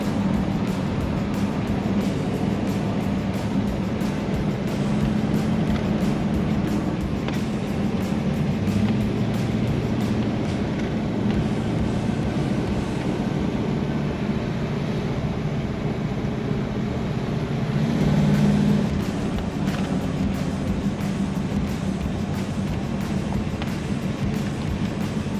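A 1980s Foxbody Ford Mustang on 30-year-old rear tires drives steadily, a continuous low engine and road rumble with wind noise, heard from inside the car without speech.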